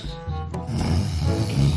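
A man imitates loud snoring with his voice, rough rattling snores running continuously close to the mic with no words spoken.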